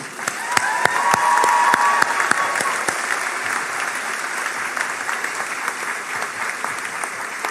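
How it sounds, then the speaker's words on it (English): Graduation audience at a spring commencement ceremony bursts into loud, sustained applause, dense crowd clapping filling the hall with a few sharper individual claps standing out near the start. "Please give yourself a round of applause."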